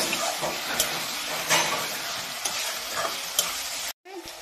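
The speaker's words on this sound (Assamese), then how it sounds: "আলু দিছোঁ এটা, একেলগতে ফ্ৰাই কৰিম।" Chicken pieces and raw potato frying together in a pan outdoors, a steady loud sizzle with occasional stirring scrapes, cut off abruptly near the end.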